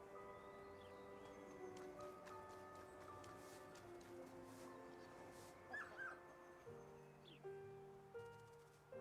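A dog in the video game Kunitsu-Gami: Path of the Goddess whimpers and gives a few soft, high yips over quiet background music, the sounds brief and scattered toward the end.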